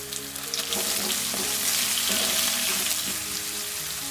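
Crushed garlic, ginger and a chopped medium onion fry in a hot pan, giving a continuous close sizzle broken by occasional stirring clinks and scrapes.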